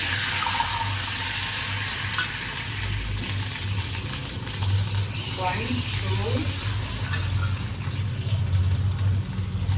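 Cups of water poured one after another into a pan holding ghee while making rava kesari, giving a steady splashing, running-water sound under a voice counting aloud.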